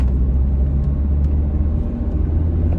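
A car on the road gives off a steady low engine rumble and road noise from inside the cabin, moderately loud and constant with no voices.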